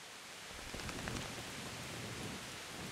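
Steady, dense rainfall from the game Kingdom Come: Deliverance hisses evenly throughout, a soft broadband wash with no voices over it.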